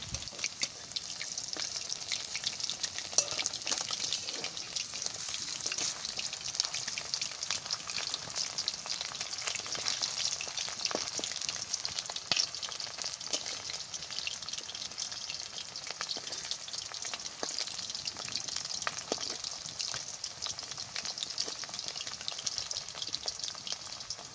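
Chicken muitha dumplings fry in a pan with a continuous, even sizzle that holds at a moderate level throughout, left unstirred, with faint crackles and no voices.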